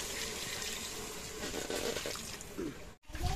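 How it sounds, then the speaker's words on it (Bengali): Hot water is poured into braised duck meat in a pot, a soft running, splashing pour with a short break before it resumes. "হাঁসটা কষানো হয়েছে, এখন আমি দিয়ে দেবো গরম পানি।"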